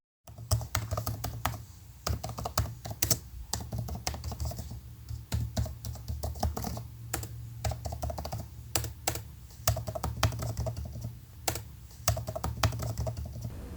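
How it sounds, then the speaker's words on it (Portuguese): A computer keyboard being typed on, a long run of close, crisp key clicks in an irregular rhythm with brief pauses between bursts, no voices over it. "Teclado do computador sendo digitado."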